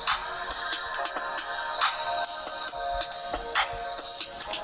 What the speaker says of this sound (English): The sound is coming from the projector. Dual speakers.